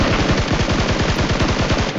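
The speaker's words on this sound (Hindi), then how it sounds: "लेकिन तभी सामने से फायरिंग होती है" Rapid automatic gunfire rattles in a fast, steady burst of evenly spaced shots for about two seconds in the PUBG battle royale game, loud and close with no talking.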